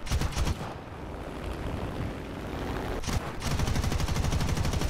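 Rapid bursts of aircraft gunfire from an F4U fighter in the combat flight game War Thunder, a dense continuous rattle that briefly drops out near the three-second mark before resuming loudly.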